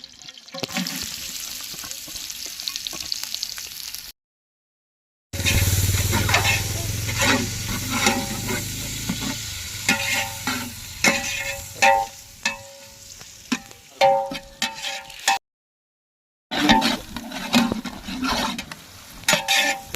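Sliced onions frying in oil for mutton leg biryani, giving a loud, steady sizzle up close with repeated stirring scrapes and clanks against the pot, broken by two short silent gaps.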